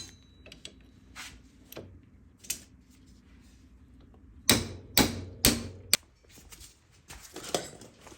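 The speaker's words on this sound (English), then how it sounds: "I'll tap on here to do the same thing and remove the caps for either side." Sharp metallic taps on the U-joint caps of a Yamaha Big Bear 350 ATV front driveshaft, struck through a 24 mm wrench: a few scattered knocks, then a close, loud cluster of four or five hits with brief ringing, and more tapping near the end.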